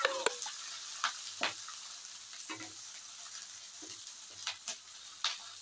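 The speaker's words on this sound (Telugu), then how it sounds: "ఇలా బాగా వేయించుకోవాలండి." Fenugreek leaves and tomato frying in a pan for chutney, a quiet steady sizzle broken by several sharp taps and scrapes of a spoon stirring, with no talking.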